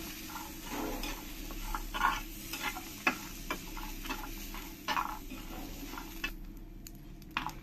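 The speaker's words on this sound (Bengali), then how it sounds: "এবার এর মধ্যে দিয়ে দেব কিছু গোটা রসুন, আর দিয়ে দেব কিছু গোটা আদা, দিয়ে আমি একই সঙ্গে একটু ভেজে নেব।" Whole garlic cloves and pieces of ginger fry in a pan of oil, a low continuous sizzle broken by intermittent scraping taps as they are stirred, quiet and close.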